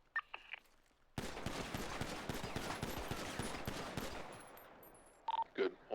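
GTA V NoPixel police academy shooting range, a rapid string of many sharp pistol shots fired in quick succession for about three seconds, close and fairly faint, with brief voices before and after.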